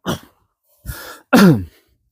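Three rough, close throat clearings in a row, the last the loudest and most guttural, with short silences between them.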